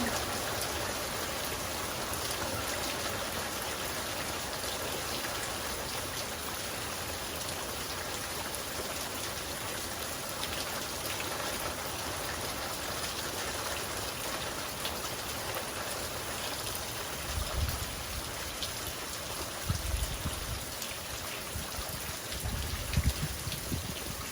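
Steady rain falls on a rainy day in South Texas, a continuous even hiss of drops with a few soft low thumps near the end and no voices.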